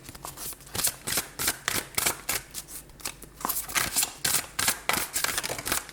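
Tarot cards shuffled by hand before a card draw, giving a quick run of crisp riffling and slapping bursts that repeat in a steady rhythm, close and clear with no talking.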